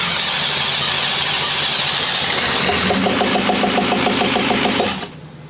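A diesel drag racing engine cranks and runs with a loud, continuous, rapid mechanical clatter and whine that cuts off abruptly near the end.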